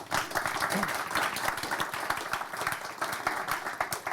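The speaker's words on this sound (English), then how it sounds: "Let's give the panelists a round of applause." Audience at a panel discussion on federal evaluation breaks into a dense, steady round of clapping for the panelists, moderately close and filling the whole moment.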